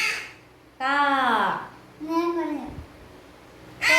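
A crow caws in loud, drawn-out calls near the listener, three harsh cries spaced apart with pauses between.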